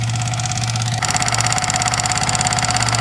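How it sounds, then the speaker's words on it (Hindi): A Yamaha R15 motorcycle engine idling with a fault that gives a ticking noise, a close, steady idle carrying a rapid regular tick that grows sharper after the first second. "इस बाइक के अंदर प्रॉब्लम ये है ना कि इंजन से काफ़ी ज़्यादा टिक टिक का नॉइज आ रहा है"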